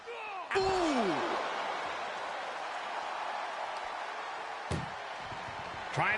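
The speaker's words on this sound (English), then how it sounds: "Trying to at least slam one door shut." Loud metallic slams of an ambulance door during a WWE wrestling match: one sharp bang near the start and two more later. Constant crowd roar fills the background, with commentators talking over it.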